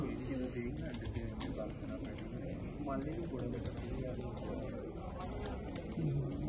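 Pigeons of an old breed coo at a pigeon show, soft repeated calls beneath near-constant talk from people nearby.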